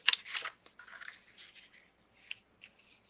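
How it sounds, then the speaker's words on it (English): Scissors cut along a drawn line on paper in a few quick, close snips and rasps, alone and fairly quiet. "Take my scissors and cut along my line to there."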